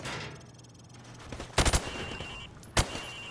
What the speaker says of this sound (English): I want you to shoot the targets through the wood.